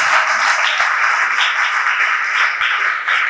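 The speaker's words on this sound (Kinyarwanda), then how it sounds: "Wakomeye Imana amashyi" A church congregation at a Rwandan worship service applauds, a sustained dense wash of many hands clapping together at a steady level, with no voices standing out.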